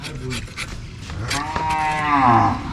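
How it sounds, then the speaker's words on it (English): A single long, deep cow moo swells in loudness and holds for a couple of seconds, with some background noise before it, in a rural Bangladesh village. "Moo."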